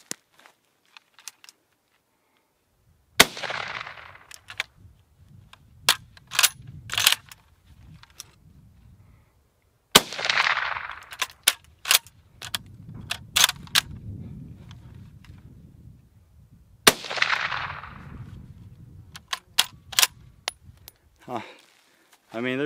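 Finnish M39 Mosin Nagant rifle fires three sharp, loud single shots spaced several seconds apart outdoors, each followed by a brief ringing echo and the clicks and clatter of working the stiff bolt between shots.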